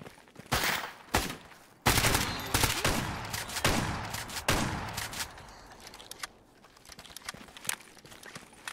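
In Stalker GAMMA, close, loud gunfire bursts out in sharp cracks and rapid volleys, with heavy shots at first and then thinning, irregular reports and scuffing.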